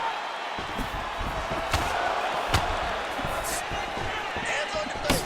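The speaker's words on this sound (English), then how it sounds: "that punch elicited a reaction from the crowd" In EA Sports UFC 5, a virtual arena crowd murmurs and swells in reaction to a landed punch. Scattered dull thuds sit over the broadband crowd noise, and a commentator's voice seems to run underneath.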